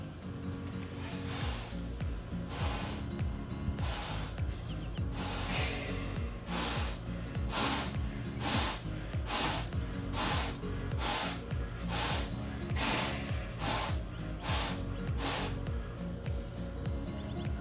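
Repeated breaths drawn through an altitude tent mask and bag, a regular rhythm of rough, close inhales and exhales roughly every second, over a constant low mechanical hum.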